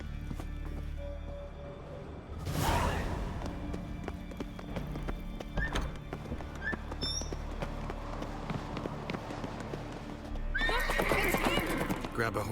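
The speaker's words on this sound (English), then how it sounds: "Grab a horse, we'll chase him down." Horses clip-clop and whinny in a fantasy video game, hoofbeats running steadily throughout with a loud neigh near the start and another surge near the end, voices speaking over parts of it.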